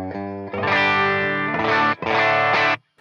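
Electric guitar played through a Suhr Bella preamp into a Torpedo Captor X impulse response, with a few overdriven chords ringing close and loud, separated by brief gaps, ending in silence.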